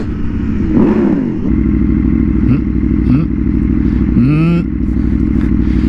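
A running Aprilia Tuono V4R motorcycle engine, loud and close, with a steady idle rumble and short throttle blips, while someone talks over it.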